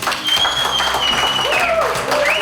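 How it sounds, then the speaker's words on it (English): Crowd applause for the referee at a grappling event, sustained clapping and cheering from an audience under music with tonal lines, fairly loud throughout. "Please applaud."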